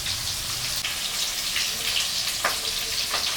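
Silver carp fish fries in hot mustard oil, a close, steady crackling sizzle with scattered sharper pops and spits throughout.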